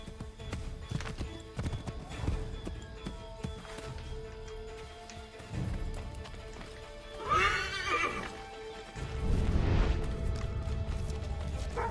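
Hooves clip-clop steadily in a horse ride from Assassin's Creed III, with whinnies and neighs breaking through and a louder burst of hoofbeats and noise toward the end; no talk.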